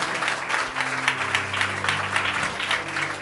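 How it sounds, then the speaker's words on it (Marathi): Church congregation clapping in praise, a close, lively burst of applause with a loose rhythmic pulse running steadily through the moment. "जरा जोरदार टाळ्या प्रभूच्या गौरवासाठी."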